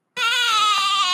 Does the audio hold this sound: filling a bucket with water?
no